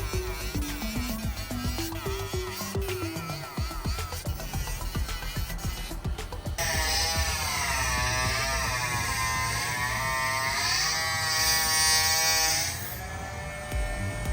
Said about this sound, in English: I really don't like the eyes, so I'm gonna grind those off and remake them later.